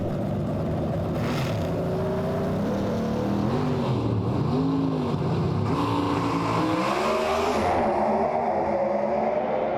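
A carbureted drag racing car with a big air scoop roars down the track, its engine note sweeping up and down through gear changes, loud and continuous.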